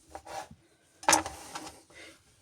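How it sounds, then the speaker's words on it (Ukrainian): A kitchen knife slices chicken breast on a cutting board while a salad is made: a few close, dry scraping cuts with one louder rasping stroke midway, then softer scrapes, with no talking. "грудку дорізаємо до кінця і теж у мисочку"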